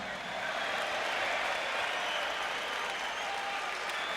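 Boxing arena crowd giving a steady, distant round of applause for a retiring referee before a Tim Witherspoon versus Everett Martin bout, a broad sustained clapping wash at moderate level.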